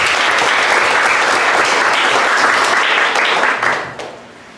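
An audience at a youth interfaith gathering applauds to welcome a speaker, a dense, loud wash of clapping that holds steady, then tapers off and fades over the last second.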